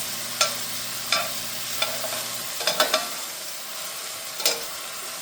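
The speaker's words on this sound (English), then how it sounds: "And you just want to cook up your onions" Onions sauté in oil in a pan, giving a steady close sizzle broken by several sharp scraping and clicking stirs of a utensil.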